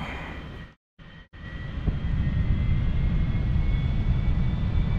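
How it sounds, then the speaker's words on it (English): Jet afterburner roar from the A-4E-C in the DCS World flight simulator, a loud continuous broadband rumble that cuts out twice briefly before surging back steadily. "I could hear that afterburner"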